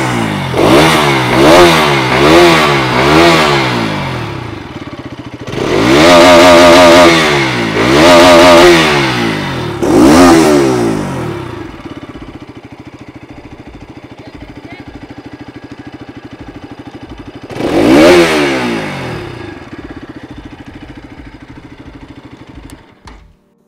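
Loud, close Bajaj Pulsar RS 200 motorcycle revving in bursts, several quick throttle blips, then long stretches of idling between further revs.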